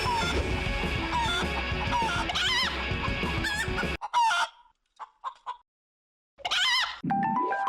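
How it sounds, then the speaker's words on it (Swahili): Chickens in a chicken race cluck and crow loudly, with busy overlapping calls and some honking notes at first, then a near-silent gap broken by short bursts of clucking and a final squawking call. "Hizi ni mbio za kuku."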